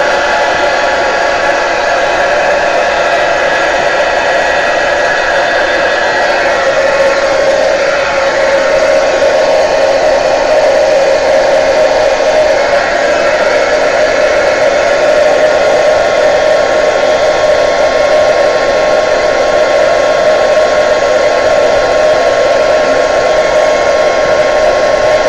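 A heat tool blows continuously on an oil pastel resist artwork, a steady close whirring hiss with no breaks or talk.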